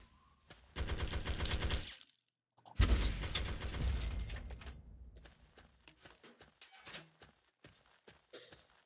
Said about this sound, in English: Firing missiles to kill them today.